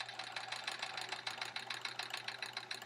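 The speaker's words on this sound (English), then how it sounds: "so we're chain piecing, which just means we're sewing one piece after the other" A sewing machine chain piecing quilt pieces, running continuously with a rapid even needle rhythm and a low motor hum, close and steady with no talk.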